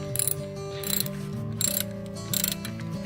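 A hand ratchet clicks through several bursts of strokes while loosening the pivot bolt on a 1997 Toyota Corolla during a drive belt replacement, close and clear with a steady mechanical hum underneath.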